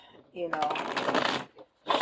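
Tarot cards being shuffled by hand for a reading, a dense riffling burst lasting about a second, then a short pause and a brief second flurry, close and fairly loud.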